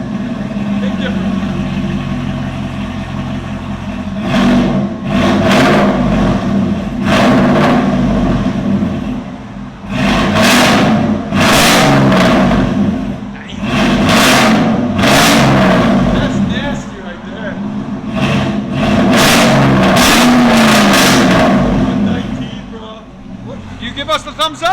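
A 2013 Chevy Silverado with a 6.0L V8 and an NTR racing muffler revs repeatedly, its exhaust swelling in loud bursts over a steady rumbling idle, with people talking throughout.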